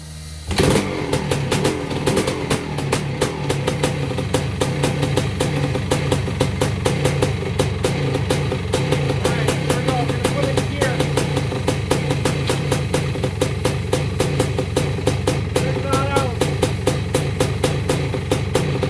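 A Yamaha YZ490 dirt bike engine that runs backwards kicks into life and keeps running, a loud, rapid two-stroke popping with a steady beat held throughout, close up with no talking.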